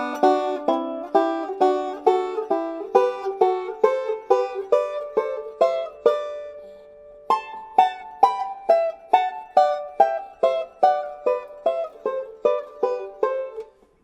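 A banjo plays thirds as double stops, climbing up the neck and back down in even plucked pairs of notes, each ringing and decaying, with a short pause midway and no talking.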